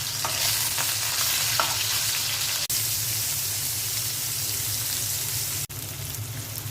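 Two hilsa fish deep frying crisp in hot oil give a steady, loud, dense sizzle with a couple of brief dropouts, no voices.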